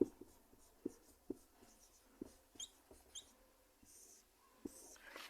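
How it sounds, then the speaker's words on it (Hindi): Pen or chalk writing out determinant work in a Class 12 maths lesson: a series of soft, close scratches and taps in an irregular rhythm, quiet and alone. "लिखते हैं, इधर हम लिखेंगे उप सारणिक,"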